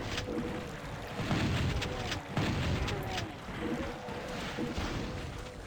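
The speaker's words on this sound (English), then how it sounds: "much beefier sound for the shotgun" Shotgun blasts in a custom Doom 2 map: a few heavy booming shots spaced a couple of seconds apart, with a rumbling tail that fills the short stretch.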